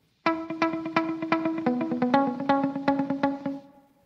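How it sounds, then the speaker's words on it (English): Electric guitar run through an Eventide TimeFactor delay pedal set to a single echo, playing a steady picked phrase where each note is followed by one repeat, blurring the notes together before a tail fades out. "And this is just one echo."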